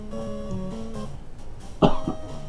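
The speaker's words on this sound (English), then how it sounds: "Ah, don't cough." A single close, sharp cough breaks over a background of steady game music and tones, followed by a smaller second cough burst.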